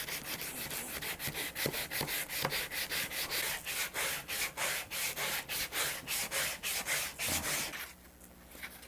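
Sandpaper on a medium-firm sanding block rasps rhythmically along a rosewood guitar neck, about two strokes per second, loud and close, then stops near the end.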